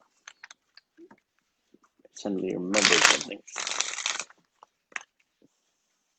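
Tarot cards shuffled by hand in two bursts of riffling, crisp and close, preceded and followed by scattered soft taps and handling noises, with a voice speaking briefly.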